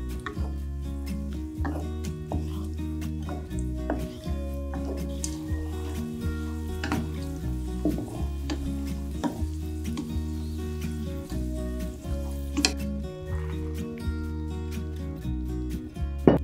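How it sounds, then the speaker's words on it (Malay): Cashews frying in cooking oil in a wok give a soft, steady sizzle that runs under gentle background music, with occasional small crackles and taps and no talking. "Gajus, goreng sampai agak keperangan."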